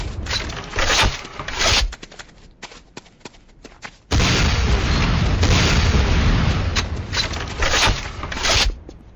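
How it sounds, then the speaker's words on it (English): In the Command & Conquer Renegade video game, a rocket launcher fires and explodes in a series of sharp bursts and booms, going briefly quiet before a sustained, loud barrage of rumbling blasts, with no talking. "Next up is the Sakoze 66mm Type R12 Locust automatic rocket launcher"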